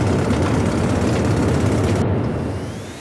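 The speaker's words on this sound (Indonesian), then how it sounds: "pilot segera menurunkan daya dan mengaktifkan thrust reverse" A loud, continuous rumbling roar of airliner engines in thrust reverse while landing on a runway, steady and heavy for most of the stretch before slowly easing off, with no talking.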